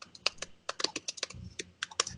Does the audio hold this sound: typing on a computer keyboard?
yes